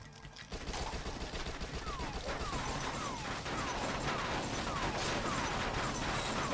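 Submachine gun fire in the zombie shooter video game Dead Nation, with rapid, dense bursts of shots repeating almost without pause over busy game effects and occasional ringing tones.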